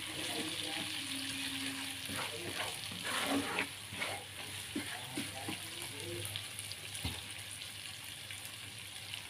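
Potatoes fry in a pan on a low flame, a gentle sizzle with scattered pops and stirring scrapes, fairly quiet and close, with a person talking faintly in the background.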